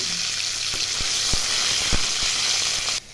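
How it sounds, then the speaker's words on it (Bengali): Paneer cubes frying with salt in a hot pan give a continuous bright sizzle, with a few sharp clicks of the spatula against the pan, before the sound cuts off abruptly at the end. "লবণ দিয়ে পনিরগুলো ভেজে নেব।"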